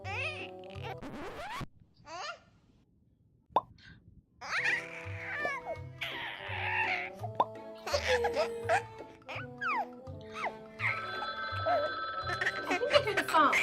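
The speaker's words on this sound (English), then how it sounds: "I think I hear the phone." A telephone rings in bursts, mixed with voices talking and playful, childlike vocal sounds. The ringing is moderately quiet and grows more prominent toward the end.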